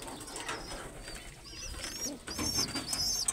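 Pet pigeons cooing in low, soft bursts, with some brighter chirps and faint wing flutters mixed into a busy ambient background.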